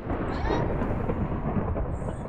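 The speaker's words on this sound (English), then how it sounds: "Can it protect us from the lightning?" Thunder rumbles through a lightning storm in the Minecraft video game, a loud sustained low roll filling the whole moment.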